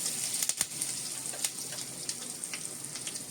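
Mustard seeds and asafoetida sizzle and crackle in hot oil for a Maharashtrian amti, with a steady close frying hiss and sharp seed pops at irregular intervals.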